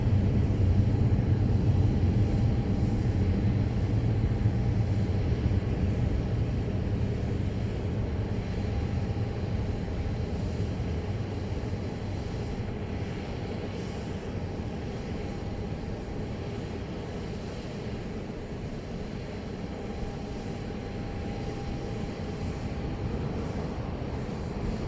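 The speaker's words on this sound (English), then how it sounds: "That was flight 2860 coming in from Orlando 737-800." A Southwest Boeing 737-800 on flight 2860 from Orlando lands at Dallas Love Field, a distant, sustained engine rumble that starts strongest and slowly eases off, alone with no talk.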